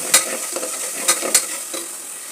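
Onions sauté in a hot pan while being stirred, with a steady bright sizzle and several sharp scraping stirs punctuating the frying.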